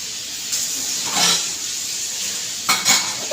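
Chicken fries in a pan with a constant hissing sizzle, broken by a couple of louder bursts of spattering and utensil scraping, with no talking.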